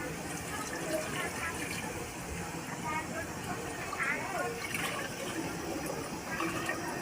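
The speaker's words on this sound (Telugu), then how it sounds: "ఇప్పుడైతే మనం చింతపండు నీళ్ళు యాడ్ చేసుకుంటున్నాం." Tamarind water poured into a cooking pan for a tamarind stew, a continuous splashing, trickling pour with bubbling liquid and light clinks, heard up close at moderate volume.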